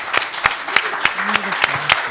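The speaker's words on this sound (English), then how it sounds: "Let's give Aysha and Chikle one more round of applause." A short round of applause for two podcast guests, heard as a sparse, rhythmic patter of individual claps, fairly close and moderate in level.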